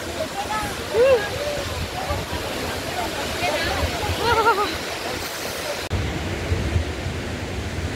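Close, continuous rush of a waterfall pouring down into a river on the road from Dirang to Tawang, a dense steady roar with a few faint bird chirps above it and no clear talk.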